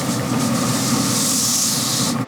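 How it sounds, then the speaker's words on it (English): Water spritzed onto a fat-cap-up tri-tip in a smoker set at 225, giving a steady, close hiss of spray that runs unbroken for about two seconds and then cuts off. "Time to hit it with a spritz."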